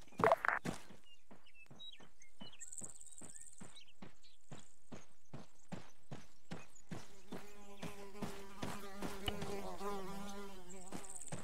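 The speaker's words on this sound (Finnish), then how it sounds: "Kärpäset on niin kovalla, niin en kuullut sua." Flies buzzing loudly outdoors, a close, steady insect drone layered over a regular series of sharp taps, with the buzzing thickening into a richer, denser hum over the final few seconds.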